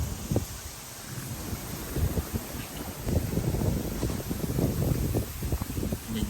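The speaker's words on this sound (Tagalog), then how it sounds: "lakas ng hangin dito" Strong wind buffets the microphone with a constant roar and rumbling gusts, broad and noisy throughout, with no voices.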